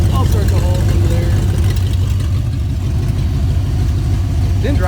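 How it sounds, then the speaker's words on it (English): Ford LTD LX idling with a holed, loud exhaust: a steady, heavy low rumble heard up close for several seconds, with faint voices mixed in. "Exhaust is way obnoxious loud."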